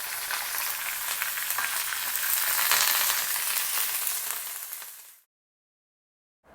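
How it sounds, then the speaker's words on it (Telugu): Chopped green chilli pieces frying in tempering oil alongside urad dal, a loud, dense close-up sizzle that swells slightly mid-way and then stops abruptly into silence. "మినపప్పు వేగుతూ ఉన్నప్పుడు మనం తరిగి ఉంచుకున్న పచ్చిమిరపకాయ ముక్కలు వేయాలి"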